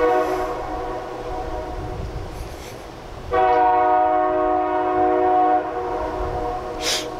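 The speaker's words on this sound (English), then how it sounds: "Train!" A passing train sounds its horn in sustained, loud blasts, with a second stronger blast midway, over a rumbling rail background and no speech.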